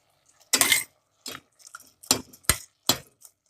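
A metal spoon knocks and scrapes against a pot of cooking eggplant bharta, giving five or six separate clinking strokes spaced irregularly across a quiet background, fairly close and clear with no talking.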